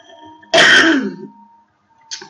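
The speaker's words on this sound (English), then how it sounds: "Typical coughing fit right in the middle of the recorded training" A single harsh throat-clearing burst from a person during a recorded training session, loud and close, followed by quiet and a brief faint noise at the end; no speech.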